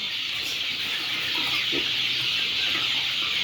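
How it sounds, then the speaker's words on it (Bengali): Three-month-old chickens kept for food on a farm in Saudi Arabia cluck softly and intermittently nearby, over a steady background hum. "এখানে আবার আমাদের জন্য কিছু মুরগি রাখলাম খানার জন্য।"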